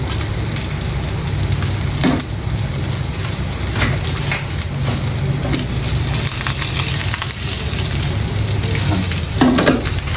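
Mixed vegetables fry in butter with a loud, continuous crackling sizzle, broken by a few sharp clacks as they are stirred and tossed in the pan.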